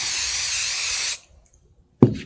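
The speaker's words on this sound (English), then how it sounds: "A very light spray." A light spray of water misted onto a towel, one steady close hiss lasting about a second, then silence and a brief soft knock.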